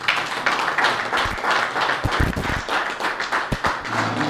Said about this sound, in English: let's put our hands together for Mr.